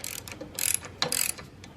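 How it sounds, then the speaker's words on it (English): Bolts are tightened with a ratchet on a Triumph Thruxton R motorcycle during an oil leak repair, two or three quick clicking bursts up close with short gaps between them. "Finger tighten that, finger tighten this, and then I'll tighten everything down to spec."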